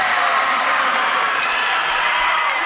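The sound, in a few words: volleyball crowd cheering and clapping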